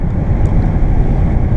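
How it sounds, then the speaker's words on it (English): Wind noise inside a moving Mazda MX5 forms a loud, steady, low rushing roar that fills the cabin without a break, with no talk. "Now we can talk about the wind noise"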